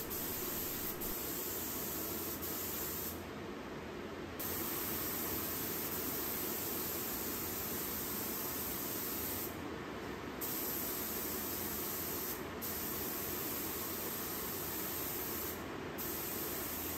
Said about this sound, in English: I just spray it straight out of the can. BIN's pretty thin, and it goes well out of a turbine sprayer.